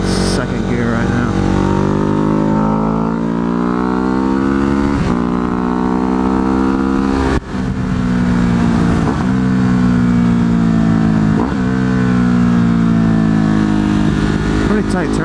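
A Ducati Hypermotard motorcycle engine runs steadily in second gear on a cloverleaf ramp after a tune, a loud, close, continuous drone whose pitch sags and swells with throttle changes throughout.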